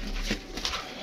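Pigeons cooing at a rooftop loft in Gujranwala, a couple of soft, low coos close by over a quiet background, brief and fairly faint.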